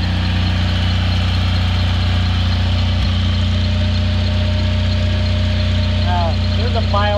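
A generator runs inside a garage with a loud, continuous droning rumble that holds steady throughout, close and constant.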